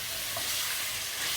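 Chicken liver with crushed garlic and ginger paste frying in a pan, a steady close hiss of sizzling oil with faint stirring, brief and continuous, no voices.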